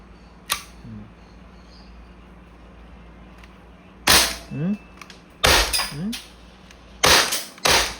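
An Umarex Glock 19X CO2-powered steel BB pistol in coyote finish, 4.5 mm, fires with blowback: a single sharp crack early, then several loud, close shots spaced a second or so apart, some in quick pairs, over quiet room tone.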